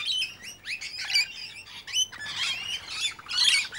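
Small birds in a bird sanctuary chirp and tweet in quick, overlapping bursts, bright and close, with brief gaps between calls and no talk.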